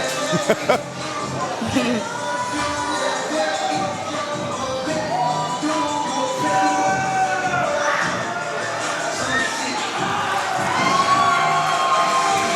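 A wrestling crowd at a live event roars and cheers continuously, with whoops, shouts and higher voices rising above a dense, loud wall of noise that swells toward the end.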